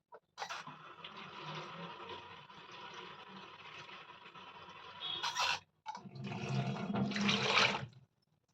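Water pours into a pressure cooker holding greens sambar, a close steady gushing stream that stops briefly, then resumes louder, with no talking.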